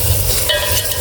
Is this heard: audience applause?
no